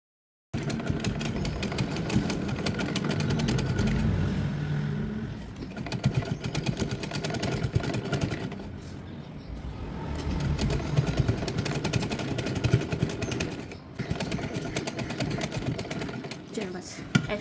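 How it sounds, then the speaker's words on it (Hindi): A sewing machine runs in long continuous bursts while top stitching a plain dress, a close, loud motor whir with brief pauses between seams; no talking is heard over it. "अब इसको सीधा करके ना इस पर हम टॉप स्टिच लगाएंगे"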